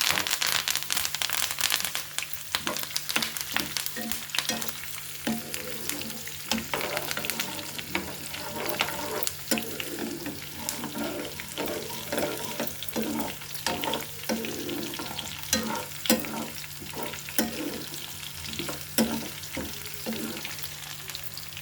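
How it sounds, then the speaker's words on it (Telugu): Dried red chillies, curry leaves and garlic fry in hot oil with a steady close crackle and sizzle, punctuated by regular scraping stirs of a spatula throughout, with no talking. "ఎండుమిర్చి కూడా వేసాను. కరివేపాకు, వెల్లుల్లి కూడా వేసేస్తున్నాను"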